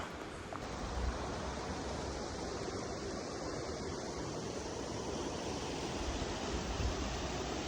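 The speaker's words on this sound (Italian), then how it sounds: "Ecco l'acqua che sgorga dalla montagna, proprio lì sotto." Water gushes out of the mountainside below a cave entrance at the Oliero caves, a steady broadband rush that stays loud and constant throughout with no voices.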